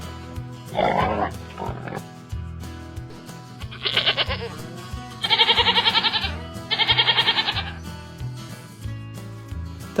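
Farm goats let out long, wavering bleats in loud repeated calls, with a pig's oink early on, all over continuous background music.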